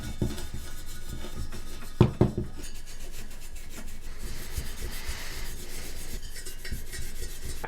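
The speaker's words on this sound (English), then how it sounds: "I'm gonna throw some steel wool around the whole thing" Fine steel wool scrubs the chrome rim of a 1971 Honda CT90 motorcycle wheel in a continuous soft, gritty rubbing, with a couple of sharper knocks near the start.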